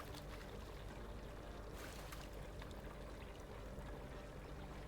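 Water splashes and runs continuously, with a brief louder sloshing burst midway, as gun parts are rinsed in cold water in the video game Gunsmith Simulator; no voices.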